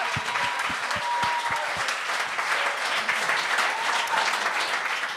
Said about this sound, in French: On peut l'applaudir, là.